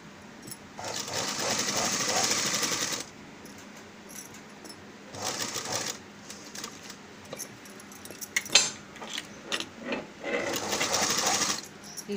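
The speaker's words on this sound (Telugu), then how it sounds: "ఇలా సెంటర్ పెట్టుకొని ఈ విధంగా ఇక్కడ క్లాత్కి అడ్జస్ట్ చేసుకుంటూ మనము స్టిచ్ చేసుకుందాం." A sewing machine stitches fabric for a pot neck blouse in several loud, whirring runs, separated by quieter pauses filled with small clicks and handling noises.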